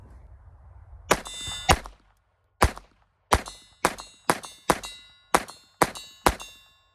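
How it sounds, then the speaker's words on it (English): Walther PPK .22 LR pistol fired as fast as possible through a full magazine: nine sharp, ringing reports in an uneven rapid sequence, each with a short decaying tail, loud and close with no talking. "I'm gonna pull the trigger as fast as I can and see what happens"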